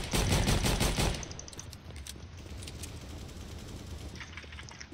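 Video game gunfire from an AK rifle in CS:GO, a rapid automatic burst for about a second that gives way to scattered lighter shots and game ambience, with no talking.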